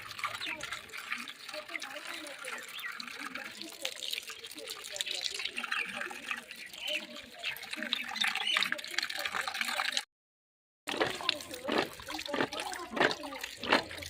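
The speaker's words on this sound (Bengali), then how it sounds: "তাই প্রথমে জলপাইগুলো ভালো করে ধুয়ে নিচ্ছি।" Olives being washed by hand in water for a village-style pickle, with continuous splashing and sloshing, then a brief silence and renewed sharper splashes and trickles.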